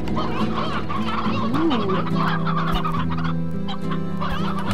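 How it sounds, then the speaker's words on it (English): Chickens cluck and gobble in a coop in the video game Slime Rancher, a dense, steady flock chatter with a brief exclamation from a voice partway through. "Chicken coop needed some upgrading."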